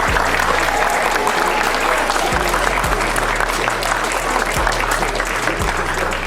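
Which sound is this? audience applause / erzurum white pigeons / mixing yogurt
audience applause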